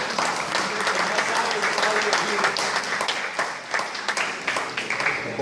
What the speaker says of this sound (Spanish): pido pues para Claudio un caluroso aplauso